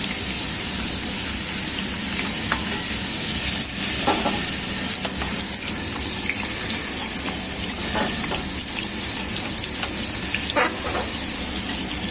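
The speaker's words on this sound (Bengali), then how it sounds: "এদিকে ইঁচড়টা কষাচ্ছে আর এদিকে ডিমটা ভাজা হয়ে গেছে" Young jackfruit being sautéed and stirred in a pan, giving a steady broadband sizzle with scattered scraping clicks of a spatula throughout, fairly close and continuous with no voices.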